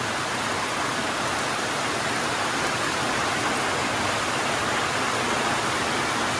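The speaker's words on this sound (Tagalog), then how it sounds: "si malakas na ulan" Heavy rain pouring down at a roadside lechon stall, a dense, even hiss of downpour that holds steady and loud throughout with no voices.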